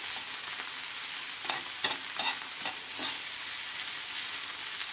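Onions fry in a pan with a constant hissing sizzle, punctuated by a few short scraping stirs of a spoon near the middle, close and even in level, with no speech.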